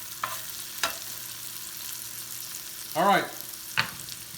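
Cheesesteak meat sizzles softly on a griddle while a spatula stirs it to melt the cheese, with a few sharp scraping clacks over the hiss and a brief spoken word partway through.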